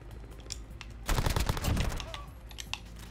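A burst of SMG fire in Call of Duty: Modern Warfare II, a dense rapid rattle lasting about a second amid quieter game ambience.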